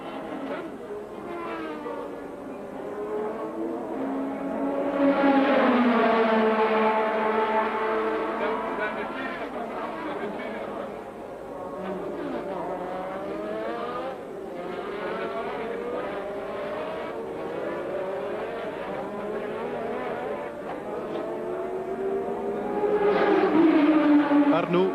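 Formula 1 race cars from the 1984 Belgian Grand Prix screaming past in succession, engine notes rising and falling as they pass, loud and continuous, with a commentator talking over them.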